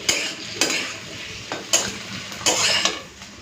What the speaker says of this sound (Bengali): এরপর পুরো হাই ফ্লেমে ভাজতে থাকবো।